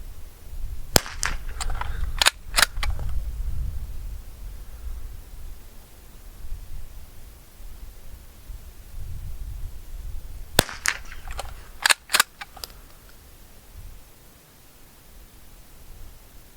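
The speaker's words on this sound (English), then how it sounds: "I think I ended on a pretty bad shot" A 50 m smallbore target rifle fires sharp, close cracks in two clusters of several shots each, separated by a long stretch of low background noise.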